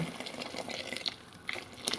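Water poured into a cooking pot for a simple vegetable dish, a steady splashing fill with brief brighter gurgles, heard up close and fairly soft with no talk.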